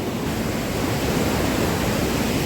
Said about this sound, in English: You see the power of the water moving through the weir.